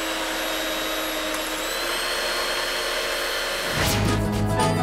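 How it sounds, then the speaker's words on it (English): An electric whisk whirs steadily while mixing cake batter, a constant high motor whine that shifts and grows louder near the end as the beaters change pace. "Did you hear the sound of the electric whisk?"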